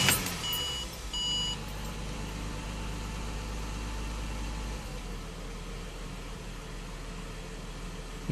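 A Ford Barra 4.0 litre engine cranks and catches after a battery replacement, settling into a steady close idle hum, with a few electronic warning beeps chiming at the start.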